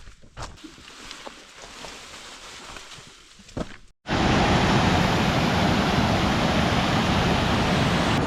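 Waterfall on the Waimea Canyon loop hike in Kauai, Hawaii: quiet trail ambience with a few rustles, then an abrupt cut to a loud, steady, close rush of falling water.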